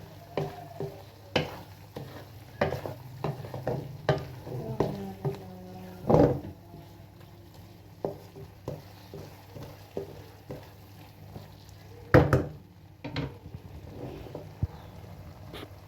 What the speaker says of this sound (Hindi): इसमें मिक्स करेंगे और अच्छी तरह से भून लेंगे।